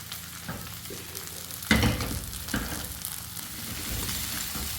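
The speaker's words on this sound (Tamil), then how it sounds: "இப்போ தெரியுதுங்களா நல்லா ரோஸ்ட் ஆகிட்டு பாருங்க உருளைக்கிழங்கு" Potatoes roast in a pan for a festive Thai Kiruthigai lunch, giving a steady low sizzle with a sharp stirring scrape near the two-second mark and another fainter one after, close and without talk.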